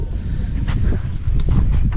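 Strong wind roars across the microphone in steady low buffeting gusts, loud and close, with faint hissing bursts on top.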